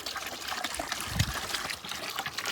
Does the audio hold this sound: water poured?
yes